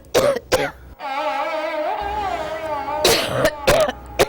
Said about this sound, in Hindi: ये खांसी तो दौरे की शक्ल इख्तियार कर गई है